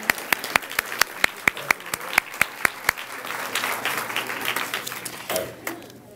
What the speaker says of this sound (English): At the round of applause, absolutely, go ahead.